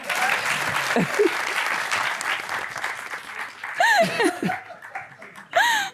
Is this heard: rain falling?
no